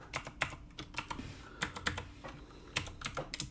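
Computer keyboard typing in bursts of quick keystrokes with short pauses, close and moderately loud, as code is entered with no one speaking.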